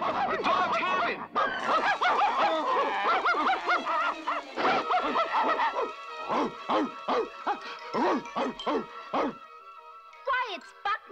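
Several cartoon dogs bark and yip excitedly in quick bursts, close by, in a Scooby-Doo game, mixed with laughter-like sounds and voices; the barking grows choppy and rhythmic toward the end.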